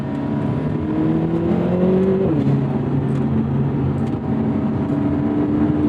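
Turbocharged AMG four-cylinder in a 2024 Lotus Emira Turbo revving steadily under load, with a paddle shift audible as the pitch drops partway through; continuous and fairly loud with no talk.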